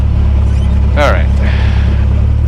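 A Cessna 172S engine running at full takeoff power, a loud, steady droning buzz that fills the cabin throughout, with a brief spoken voice over the engine.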